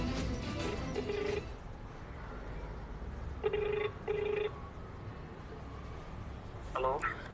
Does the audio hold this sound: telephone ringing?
yes